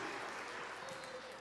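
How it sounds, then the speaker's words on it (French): A church audience at a Christmas youth and children's Mass claps for a child, a soft, even patter heard from a distance without talk. "Bravo. On l'applaudit."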